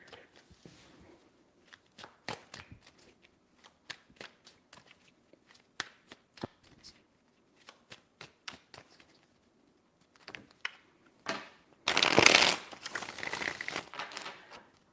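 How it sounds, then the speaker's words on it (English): Tarot cards are shuffled by hand in a quiet room: scattered soft flicks and taps, then a brief louder riffle of cards near the end. "Three more shuffles."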